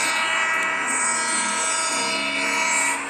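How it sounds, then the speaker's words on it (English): A train horn in a train simulator video game sounds as one sustained, steady chord-like blast lasting about three seconds and cutting off at the end. "And let's hear the horn."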